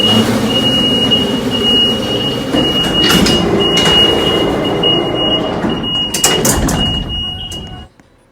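An elevator door slides shut in an elevator-testing video game, with a steady mechanical rumble and a thin high whine that carries on for several seconds before cutting off abruptly.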